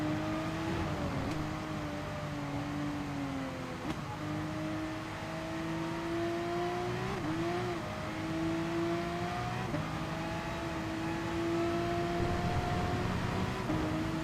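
A car engine revs in first gear in the GT Sport racing game. The tone is steady and close, rising and falling in pitch as the throttle is fed in harder, with a few brief dips where it eases off.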